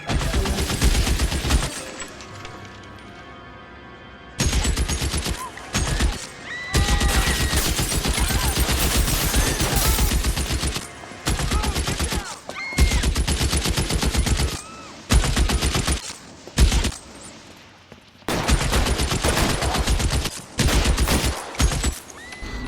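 Loud bursts of rapid gunfire ring out during an L.A. Noire police shootout, several long rattling volleys broken by short pauses, close and dominant, with no talking.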